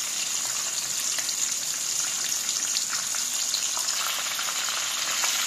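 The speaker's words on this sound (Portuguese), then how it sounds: "Vou fritar vários aqui, ó" Several hake fillets fry in hot oil, making a constant, dense crackling sizzle with fine popping that holds at an even level from start to finish, with no voices.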